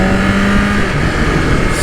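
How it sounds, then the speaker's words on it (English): A 2021 BMW S1000RR motorcycle under hard acceleration, a loud close engine roar with a quick pitch dip partway through as the quick shifter changes gear. "That quick shifter is just the smoothest thing you will ever use"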